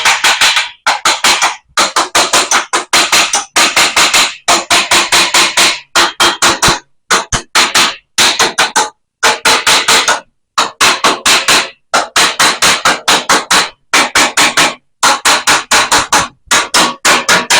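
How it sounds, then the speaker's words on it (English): Rapid hammer blows chip slag off a fresh stick weld, sharp metallic taps in quick bursts of a dozen or more, separated by short pauses, loud and close with no talking. "So I'm just going to chip the slag off a little bit."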